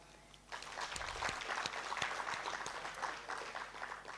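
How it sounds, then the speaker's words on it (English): An audience at a savings and credit cooperative gathering breaks into clapping, starting abruptly and holding as a fairly faint, even patter of many hands. "Let's clap hands for each other."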